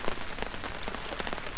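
Rain drums steadily on a tarp at an Australian bush camp, a dense, close patter of drops with sharper individual taps throughout, and no voices.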